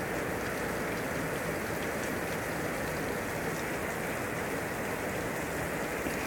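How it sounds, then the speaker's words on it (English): Steady rain pouring down, a dense continuous hiss of drops hitting surfaces, with no voices. "Ignore the rain."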